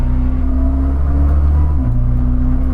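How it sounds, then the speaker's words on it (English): A Koenigsegg CC850 hypercar engine drones loudly and steadily, with a brief dip and change in pitch as a manual-style gear shift comes through, close and continuous with no speech. "I only know there's a shift because I can hear the engine."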